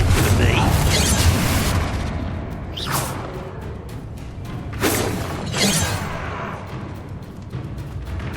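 Confringo blasting spells explode in the Hogwarts Legacy video game, several loud booming, shattering bursts with whooshes, spaced a second or two apart over a dense bed of game noise.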